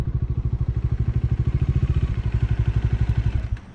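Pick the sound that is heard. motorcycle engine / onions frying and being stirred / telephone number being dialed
motorcycle engine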